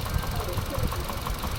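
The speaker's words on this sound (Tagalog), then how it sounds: "same pa rin yung panginginig ng makina" Suzuki Ertiga 2017 engine idling rough after a restart, with a steady low knocking throb and vibration that holds evenly throughout at a moderate, close level.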